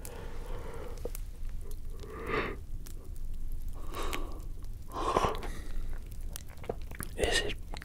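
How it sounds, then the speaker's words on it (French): A yawn drawn out during soft, close ASMR talk: breathy, gasping inhales and airy exhales come in several swells across the stretch, intimate and quiet. "essayer de parler pendant un bâillement, c'est pas la même chose."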